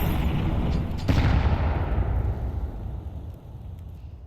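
Several HE grenades detonating in a Counter-Strike pro match, a dense rumbling barrage of booms with a sharp blast near the one-second mark, then a gradual fading tail.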